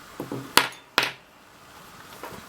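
AA batteries pushed into the battery compartment of a cheap Flytec 6029 1/16-scale RC toy car, two sharp close plastic-and-metal clicks followed by fainter rattling.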